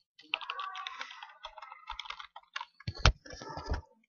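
Someone types a URL on a computer keyboard, a close run of quick, irregular key clicks with a few short pauses and several louder, heavier keystrokes near the end.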